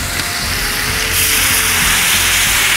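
Blonde beer hits a hot pan of frying fish, setting off a loud, steady broadband sizzle that grows brighter and fuller partway through and holds without pause.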